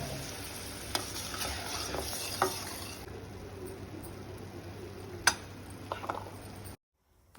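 Onion, garlic, ginger paste and chopped tomato masala frying in a pan, a steady close sizzle broken by scattered clicks and scrapes of stirring, then a sudden cut to silence at the end.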